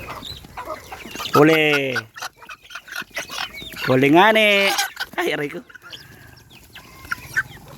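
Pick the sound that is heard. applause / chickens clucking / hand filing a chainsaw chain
chickens clucking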